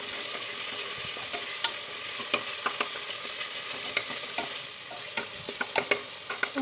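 Tomatoes being stirred in a hot pan for chicken stew, giving repeated soft scraping strokes over a steady close sizzle, with no voices.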